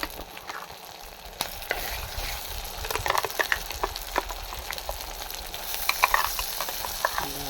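Ginger, garlic and a ground paste sizzle and fry in a pan for a gravy, with soft continuous crackling and sharp stirring clicks scattered throughout and no talking.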